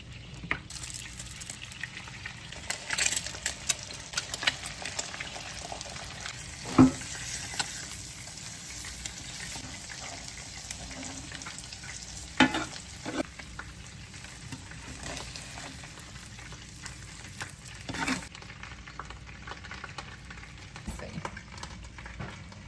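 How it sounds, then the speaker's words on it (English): Eggs frying in a buttery pan give a steady low sizzle throughout, with occasional louder clicks and scrapes from utensils at a few points, and no talking. "Now we're gonna fry eggs."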